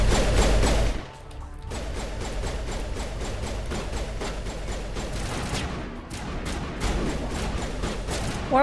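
Dense, loud gunfire fills a Mass Effect firefight, with sustained bursts and crashing impacts that dip briefly near the one-second mark before continuing at full intensity.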